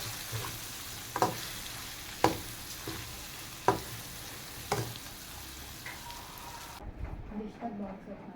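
Bitter gourd fries in a pan over a low-medium flame with a leftover spice mixture added, giving a soft, steady sizzle broken by four or five sharp spatula scrapes at regular intervals.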